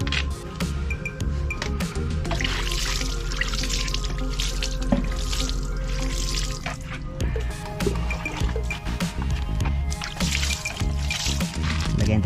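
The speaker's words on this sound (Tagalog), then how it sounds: "Banlawan na natin ng tubig at sabon." Tap water and soap rinsing the chain of a Suzuki Raider 150 FI motorcycle, a steady broadband gush running continuously and close, with a brief dip before resuming at full flow.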